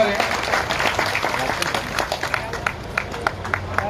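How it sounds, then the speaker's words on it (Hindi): Audience clapping to welcome a third-prize winner at a district farmers' fair and horticulture show, scattered hand claps and crowd noise with a voice speaking over them. "आप लोग तालियों से स्वागत करें।"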